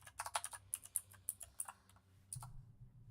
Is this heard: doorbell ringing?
no